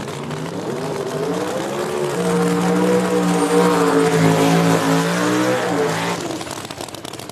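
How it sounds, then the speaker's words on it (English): Turbocharged small-tire drag car at Beech Bend Raceway Park doing a half-track burnout, a loud sustained engine roar with strong harmonic drone that builds and holds for several seconds before easing off near the end. "Jimmy Mayo with the half-track burnout over there in the right lane"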